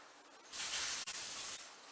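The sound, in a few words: baking spray sprayed into a pan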